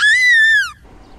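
A Lexus LC500 convertible's engine lets out a high, thin scream-like wail that holds for under a second and then drops away to quiet rumble, loud and close.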